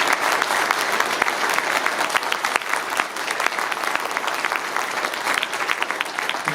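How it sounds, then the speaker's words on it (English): An audience at a North Dundas all-candidates meeting gives the candidates a big round of applause, steady dense clapping filling the hall without a break for the full stretch. "Let's have a big round of applause for our candidates"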